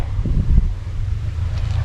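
Strong gusting wind buffets the microphone while a Thai chula kite is flown, a loud low rumbling roar with uneven surges.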